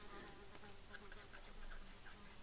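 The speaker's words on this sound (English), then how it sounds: "Oh, buzz off, fly." Housefly buzzing in a room with the windows open, a faint continuous hum with small flickers as the fly moves about nearby.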